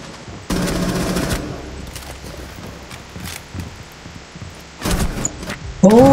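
Bursts of rapid gunfire in the tactical shooter Rainbow Six Siege, a sustained volley followed by scattered single shots and a second burst, loud and near, with no speech.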